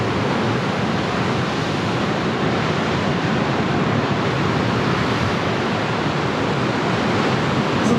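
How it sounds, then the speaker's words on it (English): Water surges and rumbles beneath the rocks and into cracks and caverns along a gorge on the Munmorah coast of New South Wales, a steady, dense roar that stays loud and unbroken throughout, with no voices. "You can hear the water sort of thundering underneath the rocks down there."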